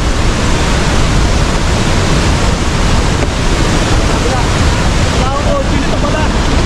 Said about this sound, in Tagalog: Papasok tayo din sa loob ng falls.